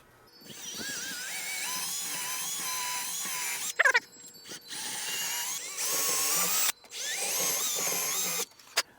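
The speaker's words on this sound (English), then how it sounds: "I'm using a 5/32 inch drill bit because I don't have metric drill bits." A power drill with a 5/32 inch bit bores mounting holes for an outdoor TV install, whining in several close bursts with short pauses between them.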